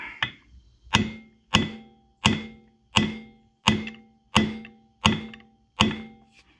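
A seized engine on a workbench struck from above with a hammer, eight evenly spaced metallic knocks about a second apart, each with a short ringing decay, close and loud, with no talking.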